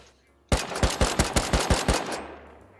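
Rapid automatic gunfire in the survival video game Rust, a close, loud burst of about eight evenly spaced shots with a fading tail.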